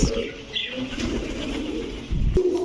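Pakistani Teddy pigeons coo in a loft, a soft repeated warbling with a wing flutter or two, close by and heard alone.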